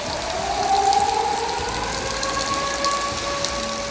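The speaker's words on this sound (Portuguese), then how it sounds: "autoridades da cidade de Sochi soaram as sirenes de desastre para alertar a população" Disaster warning sirens sounding across Sochi during floods, a steady distant wail holding long tones over rain and running water.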